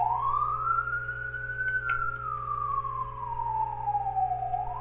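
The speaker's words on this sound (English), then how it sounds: "sorry about the sirens." An emergency vehicle siren wails outside in a single slow rising-and-falling sweep, faint and somewhat distant, over a steady low indoor hum, with no voices.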